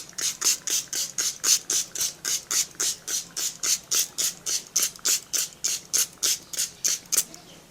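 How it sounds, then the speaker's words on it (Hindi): Rose water is sprayed onto a face from a pump spray bottle, about twenty short, even hissing puffs in a steady rhythm roughly three per second, close up with no voices. "फेस क्लीन के बाद आपको रोज़ वाटर पूरे फेस पर स्प्रे करना है इस तरीके से"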